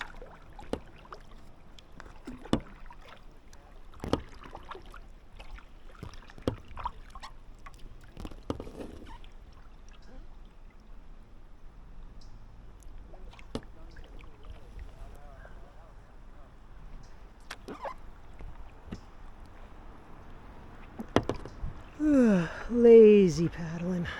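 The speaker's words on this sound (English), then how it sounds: "Lazy paddling." A canoe or kayak is paddled on New River, with sparse soft paddle splashes and knocks spread out over the clip, faint wind around them, and a voice speaking briefly near the end.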